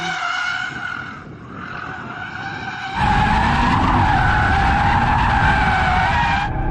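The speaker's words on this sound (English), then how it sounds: "I'm trying to drift it carefully" An Audi RS3 hatchback drifts with its tires skidding and squealing continuously as the engine roars, getting louder and more intense about halfway through, with no talking.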